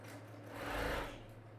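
A sewing machine stitches around a fabric circle for a Dresden sunflower quilt block, one short continuous run of motor whir that swells in the middle and then eases off, close and alone with no voices.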